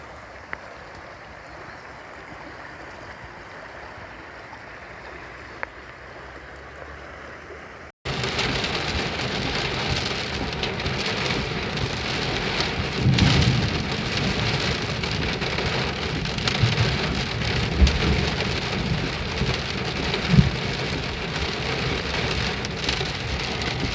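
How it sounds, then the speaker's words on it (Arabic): Heavy rain pours down in Bilad Al-Awamer, Al-Ardiyat, Saudi Arabia, as flash floods begin. Quieter ambience gives way abruptly to a loud, dense, continuous downpour with rushing water and occasional low rumbles. "أمطار وسيول بلاد العوامر بمحافظة العرضيات"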